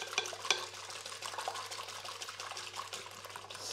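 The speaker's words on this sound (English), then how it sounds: "As I'm whisking those, getting a little bit of air into them." Eggs whisked by hand in a mixing bowl, a quiet, continuous rapid clatter of whisk against bowl with small irregular clicks, soft and close.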